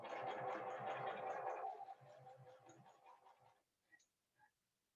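A sewing machine stitching fabric pieces in rows for a quilt sampler block, whirring steadily and faintly for about two seconds, then slowing into softer, uneven stitching before stopping with a couple of small clicks.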